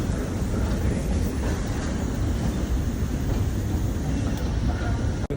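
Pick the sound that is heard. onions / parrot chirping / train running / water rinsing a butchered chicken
train running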